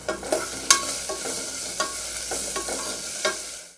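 Chopped onion tossed into hot oil with asafoetida for dhaba-style dal, sizzling steadily in a pan while a spoon scrapes and stirs in close, occasional strokes.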